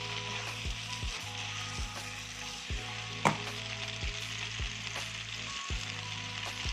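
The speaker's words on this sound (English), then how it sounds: "We just stir it to make sure all the cheese is" Spaghetti aglio olio with cheddar or Parmesan cheese is stirred in a hot pan: a constant sizzle broken by regular scraping strokes of a utensil, plus one sharp clink midway.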